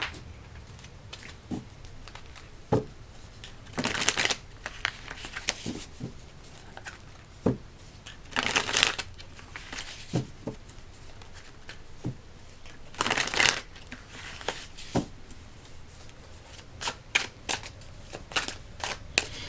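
Tarot cards are shuffled in quick papery bursts, several separate riffles and slaps broken by short pauses, close and fairly loud with no talking.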